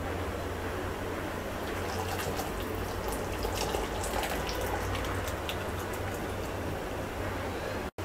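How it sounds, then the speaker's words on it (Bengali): Thick cardamom-scented sugar syrup pours steadily into a mixing bowl for flower cookies, a continuous soft liquid stream that runs close and alone for about eight seconds before cutting off abruptly. "শিরাটা একটা মিক্সিং বলে ঢেলে নিচ্ছি।"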